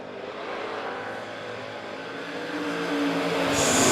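Race cars roar down the front stretch of Monett Motor Speedway, a steady, swelling engine drone that grows louder as the pack approaches.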